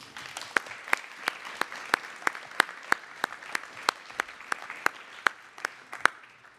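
An audience at a Year 6 and Year 9 school promotion ceremony claps for a departing class in a steady, evenly spaced rhythm, sharp beats standing out over a soft wash of scattered clapping.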